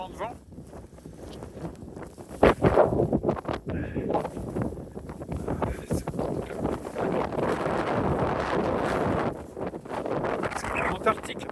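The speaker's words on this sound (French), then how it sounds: "Il y a tellement de vent." Strong wind sweeps across the Gobi desert, battering the microphone in rough, uneven gusts that swell loud and then ease off again and again.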